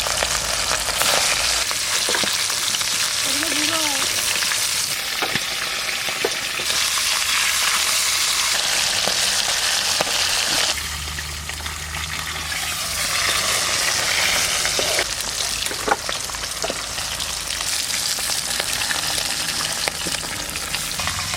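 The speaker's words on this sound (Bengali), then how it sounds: "কড়াইতে তেল দিয়ে দিয়েছি, এবার আমি পমফ্রেট মাছটা রান্না করবো। মাছগুলো আগে ভেজে নিই।" Pomfret fish frying in mustard oil in a wok, a steady loud crackling sizzle lasting throughout with occasional sharper pops and spatters, close by and with no talking.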